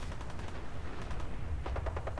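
Rapid bursts of gunfire while fighting the Brotherhood in Fallout 4, a dense rattle of shots fired in quick succession with a sharper flurry near the end.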